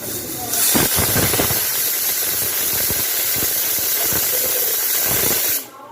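A pressure cooker cooking mutton vents steam in a loud, steady hiss that fills the whole stretch, with faint clicks and rattles under it, before cutting off abruptly at the end.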